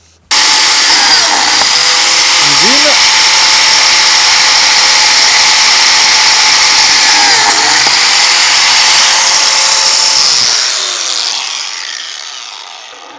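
A Makita PJ7000J biscuit joiner whines loudly and steadily while cutting into wood for several seconds, then spins down and fades out.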